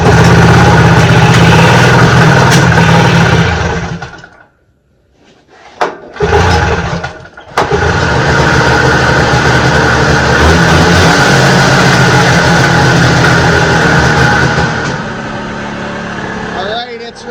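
A John Deere 400 snowmobile's loud engine cuts out, sputters and restarts, then settles into a steady buzzing idle just over 2,000 RPM that drops slightly in level near the end.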